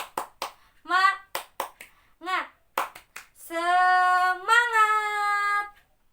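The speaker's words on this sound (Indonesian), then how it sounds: "coba Ibu pengen kalian tepuk semangat terlebih dahulu" Children in an Indonesian maths classroom clap a quick rhythmic spirit-clap pattern together, then a sustained chorus of young voices rings out at the end.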